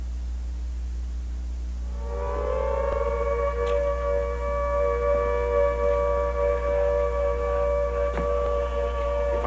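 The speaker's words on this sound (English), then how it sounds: "I shall never forget the sound of the air raid siren." An air raid siren rises after a quiet start and holds a steady, droning wail, with a deep constant hum underneath.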